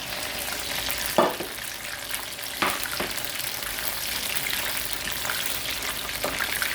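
Battered General Tso's chicken pieces deep-frying in oil over a propane burner during the second fry, a steady bubbling hiss with occasional louder pops and clatters.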